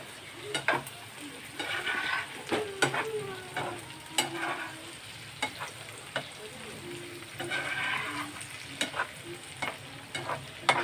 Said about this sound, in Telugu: మ్యారినేట్ చేసి పెట్టిన చికెన్ వేసేస్తున్నాము వేసేసి బాగా కలుపుకుంటే